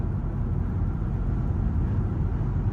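Inside a 2019 Maybach S650 with a twin-turbo V12, a soft, steady low road rumble and tyre hum fill the quiet cabin while cruising, with no talking.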